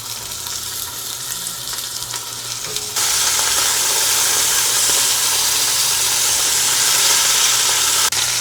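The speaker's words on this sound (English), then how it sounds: "now we're gonna go in with our beef and we're gonna brown this on all sides" Beef short ribs brown in hot lard in a pan with a loud, close, continuous sizzle that swells sharply after a few seconds and then holds steady, with no talking.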